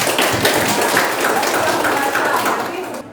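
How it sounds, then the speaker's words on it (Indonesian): Classmates clap together in a classroom for a student, a dense burst of applause lasting a few seconds before fading at the end. "Tepuk tangan untuk Satya ya."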